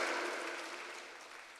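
A church congregation claps during a Sunday worship service, a brief burst of applause that fades steadily over under two seconds, with no talk.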